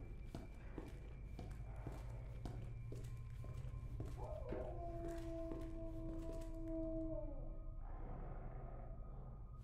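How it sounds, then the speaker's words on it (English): A lone dog howls in Resident Evil 2 Remake, one faint, drawn-out wavering tone lasting a few seconds before trailing off, set against steady quiet footsteps and low ambient hum. "Dogs."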